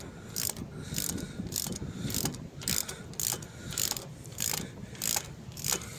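A ratchet wrench snugs a 15 mm nut on a 2008 car's suspension during tie rod and control arm work, giving a series of close, regular clicking bursts roughly every half second over a soft mechanical background.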